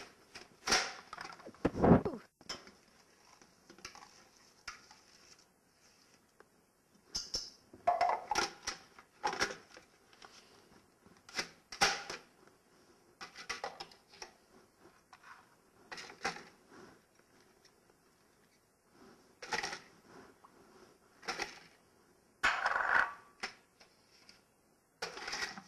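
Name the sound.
food processor pulsing to chop vegetables for chili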